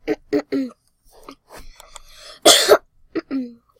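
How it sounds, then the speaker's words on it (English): Several sharp coughs in quick bursts, close and loud, with a throat clearing and brief breathy sounds between them. "I kind of have like a cough and stuff"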